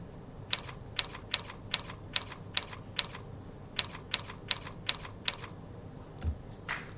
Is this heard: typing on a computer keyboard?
yes